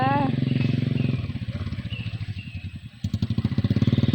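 A motorcycle engine chugging nearby with a steady pulsing idle rhythm that dips and then revs back up, loud and close throughout, with people talking over it.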